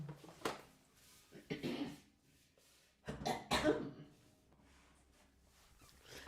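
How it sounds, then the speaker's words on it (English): A run of harsh coughs in quick bursts, close to the microphone, with throat clearing and breaths between them and quiet pauses. "just interrupt the relaxing music for a little coughing fit"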